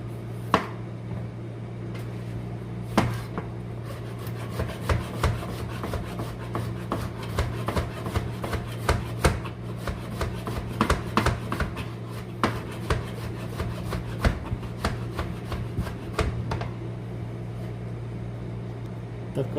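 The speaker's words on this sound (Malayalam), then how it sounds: "4 വലിയ തക്കാളി എടുത്തിട്ട് കട്ട് ചെയ്തെടുക്കാം" Knife cutting four large tomatoes in a home kitchen: a series of crisp, irregular chops and taps, close and fairly loud, repeated steadily over a constant low hum, with no voices.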